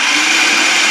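A food processor whirring at full speed while blending a white bean puree with parsley, a loud steady high-pitched motor hum heard close up and alone.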